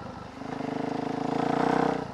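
A Suzuki DRZ400SM five-speed motorcycle engine revs up with a rapid, pulsing single-cylinder thump that grows louder and climbs in pitch, then eases slightly near the end.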